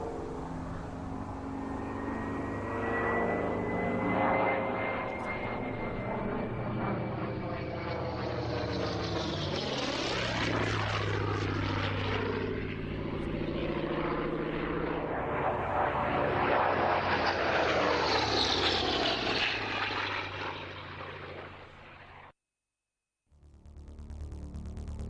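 Propeller aircraft flying at an airshow, a loud, continuous engine drone that rises and falls in pitch as the plane passes, then cuts out briefly near the end, with no talking.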